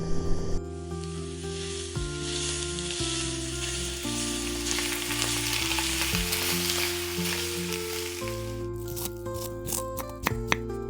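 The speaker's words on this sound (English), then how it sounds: "The smell of garlic frying in oil spreads through the air" Garlic frying in oil on a home stove, a steady broadband sizzle running continuously for eleven seconds under a layer of soft background music, with a few sharper crackles and clicks near the end.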